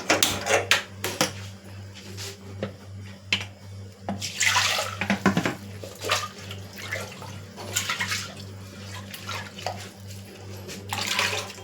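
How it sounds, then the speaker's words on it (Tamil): Water splashes and pours into a cooking pot of dal on a lit stove in uneven bursts, with clattering and scraping between pours, over a low steady hum. "தேவையான அளவு தண்ணியும் ஊற்றியாச்சு."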